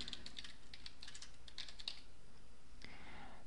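Brief message typed on a computer keyboard in an online portfolio form: a quiet, uneven patter of light key taps over faint room hiss, with no voices.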